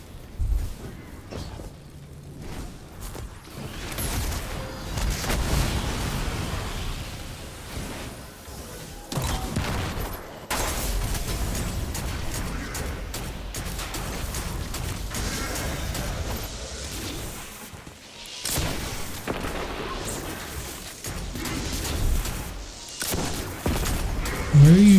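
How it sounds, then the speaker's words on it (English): Rapid video-game gunfire rattles through a dense, busy mix, bursts recurring across the stretch at moderate loudness with explosions and swooshes layered in. "Oh, are you shooting at my teammates?"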